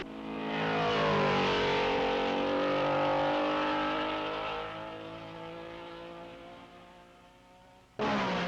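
Racing cars from the 1961 Belgian Grand Prix roar past one after another. Loud, high-revving engines swell and then slowly fade into the distance, and a fresh engine blast cuts in abruptly near the end.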